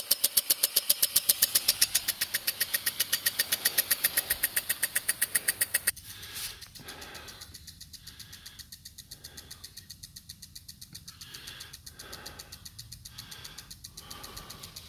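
A Buckner 10601 golf sprinkler rotor with an oversized range nozzle runs with a rapid, even ratcheting tick, loud at first, then a sudden shift to a quieter spray with softer repeated ticking.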